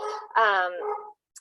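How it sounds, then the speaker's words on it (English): Dogs barking in a home, one close, yelping bark-whine lasting about a second, followed by a tiny faint yip, with no talk over it. "I apologize if you can hear my dogs in the background."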